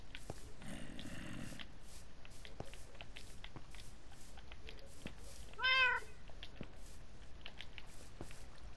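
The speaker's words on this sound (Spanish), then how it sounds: "Qué bueno que tenemos a mi gato aquí." A cat in the Minecraft video game gives a single short meow midway through, standing out over quiet cave ambience and soft scattered game sounds.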